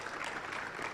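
Audience applause at a space expo and conference in Kenya as speakers leave the stage, a steady dense wash of many hands clapping, brief and moderately loud.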